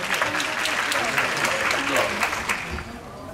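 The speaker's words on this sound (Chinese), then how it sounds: "掌声为他们喝彩" Sustained crowd applause for performers at a Taiwan original pop music awards show, dense steady clapping filling the whole stretch and easing slightly near the end.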